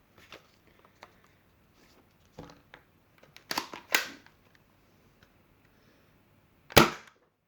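A 3D printed Platypus Nerf blaster fires with sharp snapping cracks, a few soft mechanical clicks first, then two close shots in a row and one loud final shot, heard alone.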